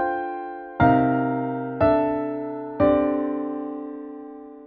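Three sustained piano chords, a musical example harmonized in perfect fifths, are struck one after another about a second apart, each ringing clearly and decaying slowly with no voices.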